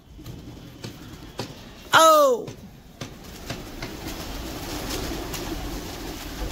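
Pigeons, including a flying flock, in an outdoor pigeon-keeping setting, with a burst of wing flapping and birdcall near the middle of the clip over a steady background, while a man calls out briefly.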